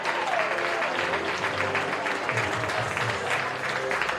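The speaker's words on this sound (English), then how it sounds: "Applause starts already." Crowd applause at a prep baseball game between Byrd and Rummel, broad sustained clapping across the stands with some faint voices mixed in, continuous and fairly loud for the whole stretch.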